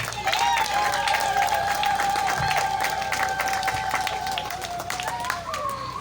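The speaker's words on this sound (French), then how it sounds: "La famille Timbalanga pourra aussi se tenir debout afin qu'on les connaisse aussi. Avec vos acclamations, bien sûr." Wedding guests applaud and cheer for the Timbalanga family as they stand, continuous clapping over a held tone from a sound system, with a scattered voice or two in the crowd.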